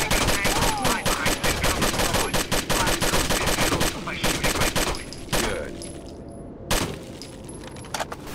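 Rapid gunfire in a first-person shooter game, a continuous stream of loud shots with brief gaps and a few sharp breaking or clattering impacts, filling the whole stretch.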